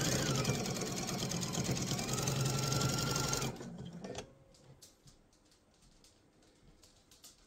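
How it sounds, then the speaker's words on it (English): A sewing machine runs a steady, fast stitching burst while sewing a seam on a mesh tote, loud and close for about three and a half seconds, then stops, leaving faint handling clicks. "I'm going to sew all the way until I get to the other side where I need to make my box"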